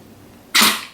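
A single sharp sneeze from a dog, a sudden loud burst that follows a quiet indoor stretch and then fades.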